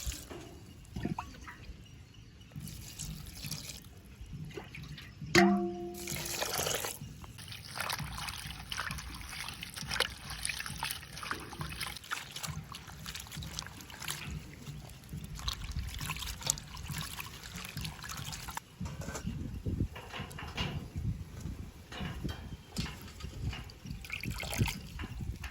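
Garlic cloves being washed by hand in water in a Jaffna village kitchen, a steady close trickle and slosh of liquid with small splashes, carrying on for the whole stretch with no talking.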